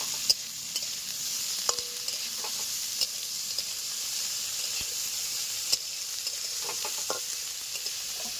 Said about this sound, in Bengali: এবার আদা রসুন লঙ্কা পেঁয়াজ হালকা অল্প পরিমাণে ভেজে নেব।